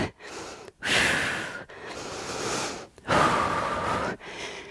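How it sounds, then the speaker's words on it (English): Forceful breathy exhales during a slow resistance workout, heard as two long, loud pushes of breath with softer intakes between them, close to the microphone and without talk. "So breathe, forceful exhales as you exert effort on the way up."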